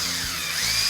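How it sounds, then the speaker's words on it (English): A power drill spins a WD-40-coated bristle brush inside the oil galleries of a junkyard 440 engine block, giving a steady high whine with a brief low bump partway through. "It allows us to chuck it up in a drill, so the galleries can be cleaned faster."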